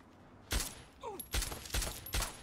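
Turret gunfire in Fallout 3, four sharp, loud bursts of shots spaced roughly half a second apart, with a brief electronic warble between the first two.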